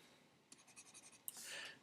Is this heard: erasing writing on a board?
yes